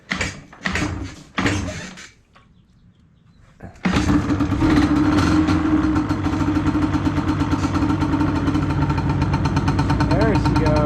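An old Cub engine, a barn find, gives a few clunks and a short pause, then catches and revs up loudly, running on in a continuous rough roar.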